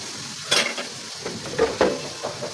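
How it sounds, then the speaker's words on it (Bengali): Onions and chillies frying in oil with salt, a low sizzle under repeated scraping and clinking stirs of a utensil against the pan, close and without talk. "লবণ দিয়ে পেঁয়াজ মরিচ তেলে কষাইতেছি"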